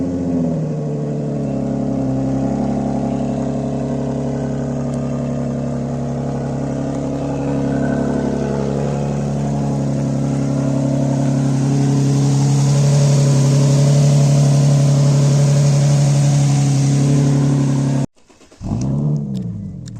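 A car engine runs loud and close for about eighteen seconds, its steady drone climbing in pitch as it revs, then cuts off abruptly and is followed by a brief rough burst.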